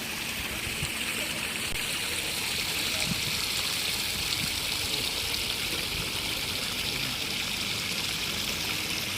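Water rushes steadily through an old Dutch-era village irrigation channel beside rice fields, a continuous, even, fairly close flow with no break.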